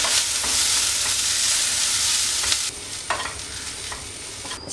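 Chicken pieces and masala stirred together in a hot pan, a continuous close sizzle broken by scraping spoon strokes and a few sharper clatters toward the end, with no voices.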